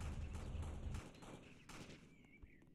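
Gunfire and taser shots crackle in the Roblox Jailbreak video game, a dense burst of rapid shots that thins out, followed by scattered fainter game effects.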